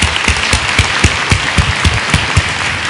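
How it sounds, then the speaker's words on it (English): Audience applause for the speakers at an event on Alzheimer's, a dense steady wash of hand clapping from a nearby crowd with individual claps poking through, continuous for the whole stretch with no talking. "please join me in a round of applause for Tom and Ann and Dr."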